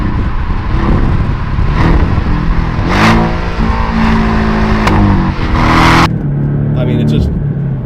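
A Porsche Cayman S cruising in sixth gear, its engine droning loudly inside the cabin with several quick rev blips as it rev-matches a downshift, and a sharp surge near the end before it settles to a lower hum.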